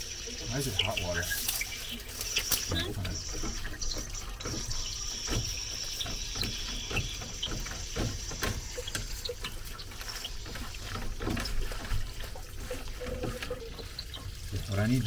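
Hot water runs from a tap in a rental unit, a continuous rushing splash under clattering handling noises, while a person talks over it.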